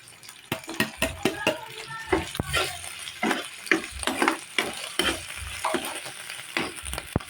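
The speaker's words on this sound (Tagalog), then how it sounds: "Hayaan natin maprito-prito." Corned beef sizzles and fries in a pan with garlic and onion while a utensil stirs and scrapes with irregular clacks, fairly quiet and close.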